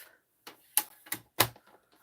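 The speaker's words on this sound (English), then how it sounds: "2 sheets of thick white cardstock. We are going to score them first at" Thick white cardstock being scored on a scoring board, heard as four or five sharp, separate clicks and taps spaced irregularly, close by with no speech.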